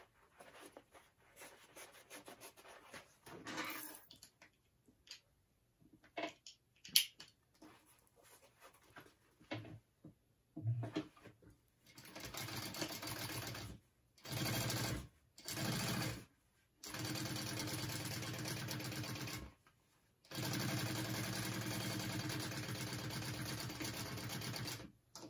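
Sewing machine running in bursts while top stitching a folded seam on a convertible backpack, several sustained runs of whirring stitching separated by short pauses and quieter handling rustles.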